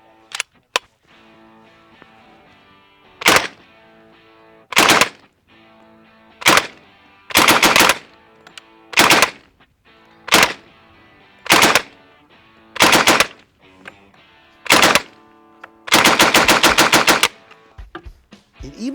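An M3 grease gun submachine gun fires about ten loud, separate bursts with short pauses between them, ending in one longer sustained burst, with no talking.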